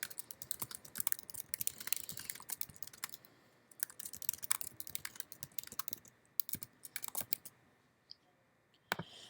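Bursts of typing on a computer keyboard while notes are entered, clicky key presses coming in quick irregular runs with brief pauses, close and fairly quiet, no talking.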